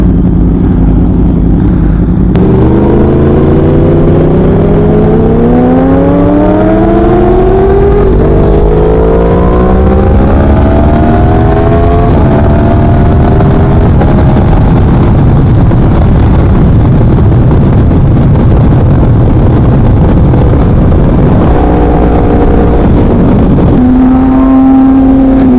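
A Yamaha R1 motorcycle fitted with a Leo Vince exhaust, ridden hard through the gears with loud rising engine pitch, repeated upshifts and sustained roaring close to the bike.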